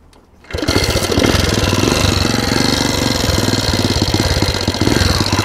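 A Tobec moped engine kicks into life and then runs loud and close, with a fast, rough, buzzing two-stroke rhythm that holds steady until the end.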